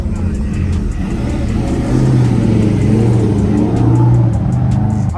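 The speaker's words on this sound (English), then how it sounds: "There's probably a crazy car behind me." Car engines idle and rev steadily at a crowded car show in Gatlinburg, a loud continuous mechanical drone with rising revs midway, with faint crowd murmur mixed in.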